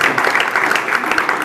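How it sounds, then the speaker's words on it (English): A conference audience applauds, dense overlapping claps filling the room at a loud, steady level for the full moment, with no one speaking. "we should give him a round of applause"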